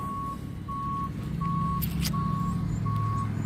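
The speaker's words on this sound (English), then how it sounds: "garbage truck is running down that alley." Garbage truck working its way down an alley, a continuous low engine rumble under a regular series of high reversing beeps, fairly close, with no talking.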